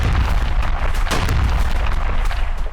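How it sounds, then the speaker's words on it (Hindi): Bombs exploding during an Israeli bombardment of Gaza, a loud, dense rumble of booms and blasts rolling on without a break, heavy and sustained, with no voices. "आसमान से बम बरस रहे हैं, नीचे इमारतें मलबा बनती जा रही हैं।"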